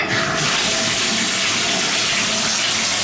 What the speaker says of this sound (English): Turn on the tub, and you can see the water pressure is really good.